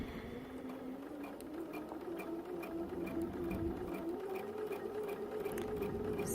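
A sewing machine stitching with a hemmer foot runs steadily, a close, continuous mechanical hum with a rapid needle rhythm throughout, without talk.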